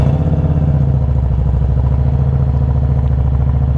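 A motorcycle engine idles loudly and close, with a steady, rapid low-pitched putter that never lets up.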